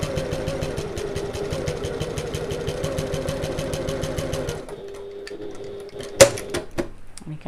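A sewing machine stitches a two-tone feature strap in a fast, even rhythm for several seconds, then stops; a few sharp clicks and handling sounds follow in the quiet.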